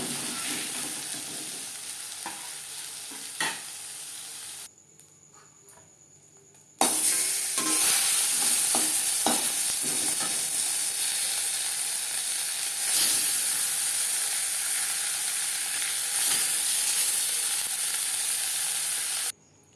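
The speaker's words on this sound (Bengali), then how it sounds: "এর থেকে বেশি ভাজবার প্রয়োজন নেই।" Fish pieces fry in hot oil for a crispy fish fry, with a strong, steady sizzle and scattered pops and clicks. The sizzle briefly drops away, then returns louder and holds to the end.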